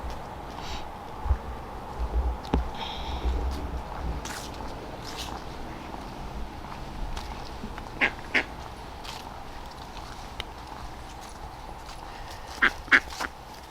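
Mallard ducks at Lake Chelan, Washington, giving short, fairly faint quacks scattered over a low outdoor background, with a few soft clicks and rustles.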